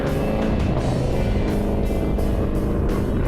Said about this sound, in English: now it's time to drift